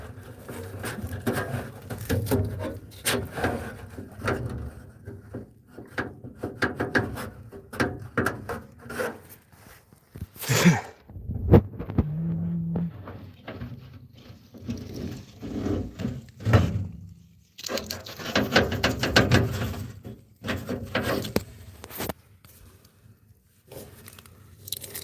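Rummaging through a toolbox for a wrench or pliers, with irregular scraping, rubbing and clattering of metal and wood, close and fairly loud with quieter pauses between bursts.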